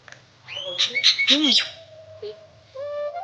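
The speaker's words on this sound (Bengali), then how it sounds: "ওদিকে কিন্তু পাখিগুলো বসে আছে" Several birds nearby give a burst of loud, harsh squawks and calls in quick succession in a cold early-morning outdoor setting, followed by quieter chirps and a thin tonal call at the end.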